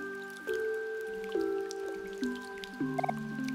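Soft watery drips of light rain plink one after another in a steady, unhurried rhythm, with a faint tonal hum underneath and no voices, in the video game Omori.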